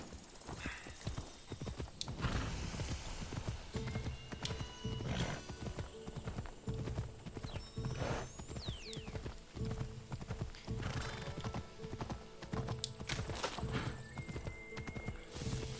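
In Assassin's Creed Odyssey, a horse's hooves clip-clop in a steady galloping rhythm throughout, with occasional whinnies and faint game ambience behind.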